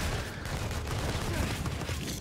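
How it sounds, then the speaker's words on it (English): Continuous gunfire in the video game Infamous Second Son, a dense, loud barrage of rapid shots and explosions filling the whole stretch with no pauses. "Who's shooting me?"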